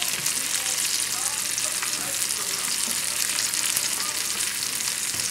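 Cajun Creole chicken tenders sizzle steadily in a hot pan, a dense, even frying hiss that stays loud and constant with no talking over it.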